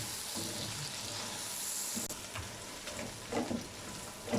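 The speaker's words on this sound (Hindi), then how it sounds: "हरी मिर्चें डाल देंगे, साथ ही टमाटर भी डाल देंगे और इसे 2 से 3 मिनट के लिए भून लेंगे।" Chopped ginger, green chillies and tomatoes fry in oil for a biryani masala, giving a soft, steady sizzle with faint stirring and clinks, close but quiet.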